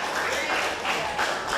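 A wrestling crowd applauds in a steady, dense wash of clapping, with a commentator talking over it.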